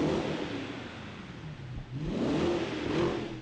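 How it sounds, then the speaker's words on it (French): A Wiesmann sports car engine starts and revs up in two broad surges, a rising whine with low rumble, close by and fairly loud. "là on va avoir droit à enregistrer le vroom vroom."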